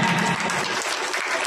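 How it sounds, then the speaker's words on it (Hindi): Loud, dense applause from a crowd at a pensioners' gathering, a short burst of steady clapping. "तो सब लोग तालियां दे दें"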